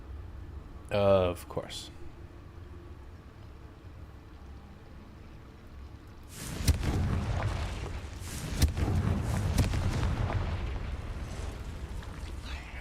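A Confringo blasting curse goes off in Hogwarts Legacy in a cave, a sudden deep explosive boom midway that rolls on into sustained rumbling and crackling, after a brief spoken phrase.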